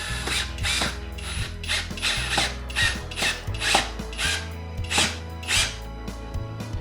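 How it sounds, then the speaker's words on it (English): A power drill drives a screw into a door strike plate during a repair, giving steady ratcheting, clicking mechanical bursts in repeated short pulses, close and alone without talk. "So with the drill, slowly go in."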